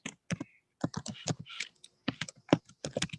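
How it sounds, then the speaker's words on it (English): Someone types on a computer keyboard in quick, irregular bursts of crisp key clicks, close and distinct, with short pauses between clusters and no talking. "sound of somebody typing WFX into their browser"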